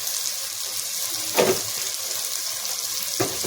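Chopped tomatoes with salt frying in a pan, a constant soft sizzle with two short clattering stirs or spoon scrapes, no voices.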